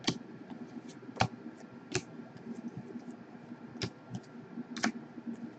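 Football trading cards from a 2017 Contenders case are flicked through one by one, leaving faint, scattered sharp clicks and light slaps over quiet room noise.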